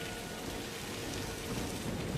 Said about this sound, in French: Il ne faut pas qu'il sorte sous cette pluie.